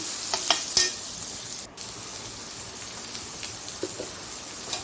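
Kasuri methi, dried fenugreek leaves, frying in a pan gives off a continuous close crackling sizzle with a few sharp ticks and clinks, no speech.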